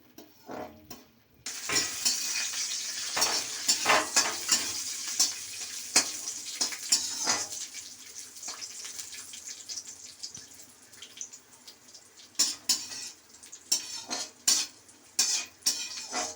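Ghee heating and frying in a kadai for Bengali Basanti pulao, with steady soft sizzling and repeated clinks and scrapes of a spoon stirring against the pan, close and fairly loud, no talking.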